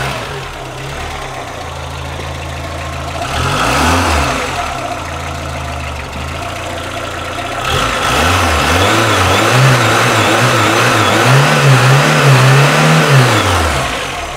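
A Peugeot car engine, started cold after a suspected alternator belt problem, idles and then is revved up several times in a row, rising and falling loud and close with a rough mechanical edge.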